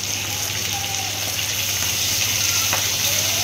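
Cumin seeds, with curry leaves added, fry in hot oil in a frying pan, giving a steady, close, broadband sizzle with scattered faint crackles and pops throughout, and no talking.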